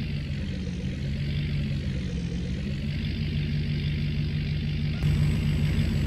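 Engine of a 3/4 ton pickup truck idling in Farming Simulator 19, a steady low rumble with a slight rise in level near the end and no talk over it.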